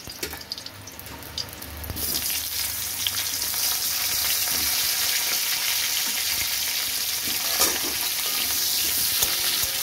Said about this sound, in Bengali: আমি মাছ ভাজার তেলে ফুলকপি ছেড়ে দেবো।